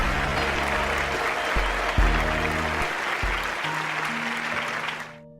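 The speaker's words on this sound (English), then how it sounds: "the audience's thunderous applause erupts from below" Thunderous applause from a large audience rising from below a stage, a dense continuous wash of clapping that holds steady for several seconds before fading out, with faint musical tones underneath.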